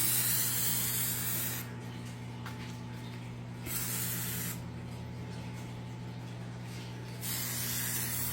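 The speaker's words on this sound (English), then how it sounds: "I'll spray the paint with acrylic sealer." Aerosol acrylic sealer sprayed onto a painted aquaponics tank: two steady hissing bursts of a few seconds each, close and fairly quiet, over a constant low electrical hum.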